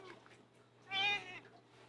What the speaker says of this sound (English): This cat feels nice and soft.